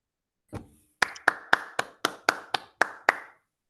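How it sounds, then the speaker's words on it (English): Sparse clapping from a small open-mic poetry audience for poet Chris Hemingway: about nine crisp, evenly spaced claps close by, starting after a single soft thump, with silence between. "Big round of applause for Chris Hemingway."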